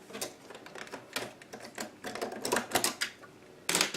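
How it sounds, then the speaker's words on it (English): A sewing machine stitches through felt for an earbud case in quick, uneven bursts of clattering needle strokes, close and fairly loud with short pauses between runs. "I'm going to turn this over and sew"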